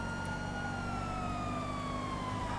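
A police car siren wails steadily and loudly in the GTA video game, a continuous sliding tone over a low engine rumble with no talking.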